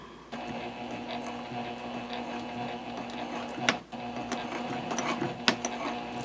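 A sewing machine backstitches through jelly vinyl while sewing an Omnia pouch, a steady mechanical hum running throughout with a brief dip and a couple of sharp clicks, close and fairly loud.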